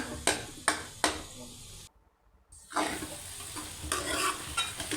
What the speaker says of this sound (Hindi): चम्मच हिलाते रहें ताकि अच्छे से मिक्स हो जाएं अंडे प्याज में